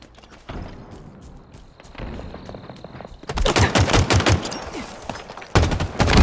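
Gunfire from Halo Infinite multiplayer: a few scattered shots give way to dense, rapid automatic bursts that grow louder and more continuous toward the end.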